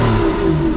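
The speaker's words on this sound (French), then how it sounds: "Un V12 Atmo, c'est magnifique, je le refais en deuxième là." Aston Martin V12 Vantage S with a naturally aspirated V12 engine revving hard under load, a loud, sustained, close engine note held steady through a short burst.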